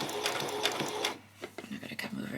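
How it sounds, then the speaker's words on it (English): A home sewing machine runs a short back stitch on a peasant skirt, a fast mechanical whirr that stops, followed by scattered softer clicks and a brief restart, with a voice talking over it. "So I'm just going to come off there, and then I'm going to do a back stitch."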